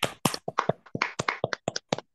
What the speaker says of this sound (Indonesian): semuanya sebelumnya tepuk tangan untuk Bapak Arvin sebagai guru kita pada malam hari ini